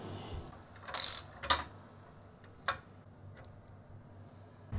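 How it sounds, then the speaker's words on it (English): Ratchet with a 12mm socket loosening a Loctited bolt on an old Yamaha Tenere 700 brake pedal, heard as a few sharp clicking bursts spaced through a quiet stretch, no talking. "So I think we need a 12mm to undo this guy."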